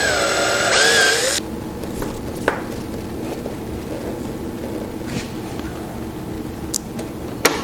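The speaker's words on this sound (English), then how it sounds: "So we'll pre-drill those holes and mount the bobbin winder with the same type of screws" A power drill whirs loudly for about a second, pre-drilling screw holes to mount a bobbin winder on a JUKI DDL-8700 industrial sewing machine, then falls away to quiet room noise with a few faint knocks.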